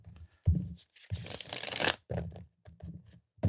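Tarot cards shuffled by hand, close riffling and sliding bursts broken by short pauses, with a longer continuous shuffle in the middle, heard without any talking.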